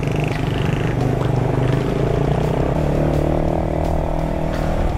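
A motorcycle engine idles steadily up close, a loud continuous rumbling drone with a faint rhythmic clatter throughout, the bike's push-start not working because of a dead battery.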